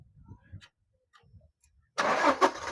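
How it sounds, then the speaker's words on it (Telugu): A 2019 Toyota Innova Crysta 2.4 diesel engine cranks and catches on a single start, a loud burst of engine noise after quiet talk and faint clicks. "సింగిల్ సెల్ఫ్ అయితే బండి అయితే స్టార్ట్ అవుతుంది"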